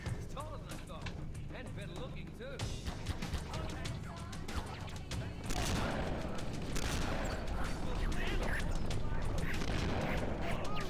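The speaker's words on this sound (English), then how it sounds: "Okay, big explosion," Big explosion in the video game Cursed Halo, a sudden loud blast bursting over ongoing gunfire and combat noise, then a sustained rumbling roar that fills the rest of the clip.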